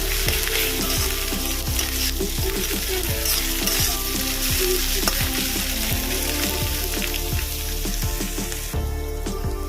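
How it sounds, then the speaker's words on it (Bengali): Chopped onions fry in a pan with a steady, loud sizzle, while frequent sharp clinks and scrapes of a stirring spoon against the pan sound close by throughout. "পেঁয়াজগুলো একটু ভালো করে ভেজে নেব"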